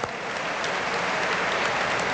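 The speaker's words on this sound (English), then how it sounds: "Give them a warm round of applause." An audience at a religious gathering breaks into warm, sustained applause, many hands clapping together in a thick, even roar that holds steady for a couple of seconds with no talking.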